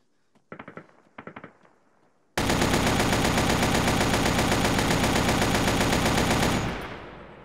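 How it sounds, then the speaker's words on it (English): Gunfire in the video game ARMA 3: two short bursts of shots, then a loud, dense, continuous stream of automatic fire lasting several seconds before it cuts off and fades. "Suppressive fire."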